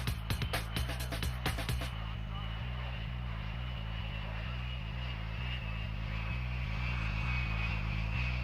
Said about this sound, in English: This aging C-141 Starlifter carried first-time visitors to Air Fate